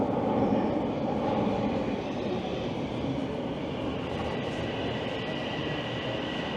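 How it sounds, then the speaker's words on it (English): A subway train at Queen's Park station in Toronto rumbles loudly and steadily through the platform area, a dense continuous roar of wheels and motors that holds at a constant level with no voices. "I am here at Queen's Park subway station"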